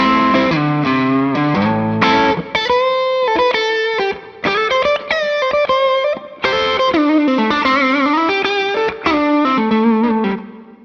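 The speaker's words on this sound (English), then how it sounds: "now we'll try the lead tone, so I'm going to switch on the Tube Screamer pedal." Electric guitar lead tone driven through a Tube Screamer overdrive pedal and recorded from a mic'd speaker cabinet: loud, sustained distorted notes and bends played as a continuous melodic phrase, with no talking.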